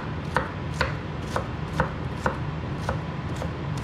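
An onion is chopped with a knife on a board, crisp regular strokes about every half second, close and clear over a faint background hiss.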